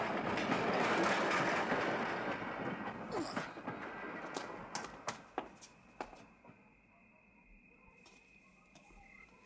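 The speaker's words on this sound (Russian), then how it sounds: "Остановите поезд." A moving train rolls along the rails with dense broadband rumble and rhythmic clicking of wheels over joints, loud at first and gradually fading into a quieter rattle with scattered clacks.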